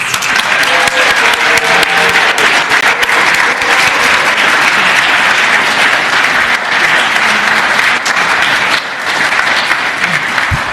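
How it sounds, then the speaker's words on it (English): Sustained, loud round of applause in the Virginia House of Delegates chamber honoring the pages, dense clapping that holds steady throughout and dips briefly near the end. "a round of applause for our amazing pages."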